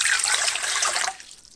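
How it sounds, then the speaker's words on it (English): Warm water poured into the bowl of a KitchenAid Classic Plus stand mixer for pizza dough, a close, bright splashing stream for about a second that then tapers into a softer trickle. "Pour warm water into the bowl,"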